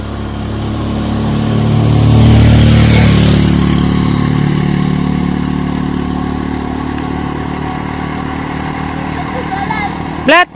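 A motorcycle engine approaches and passes close by, swelling to a loud peak then fading into a steady drone, with people talking throughout.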